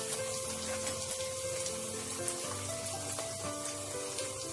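Onions fry in a pan with a steady, dense sizzle that stays even and close throughout, with no talking.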